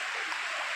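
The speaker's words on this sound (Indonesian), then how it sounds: "suara gemericik air" Steady babbling of flowing water, close and continuous with an even rushing texture throughout.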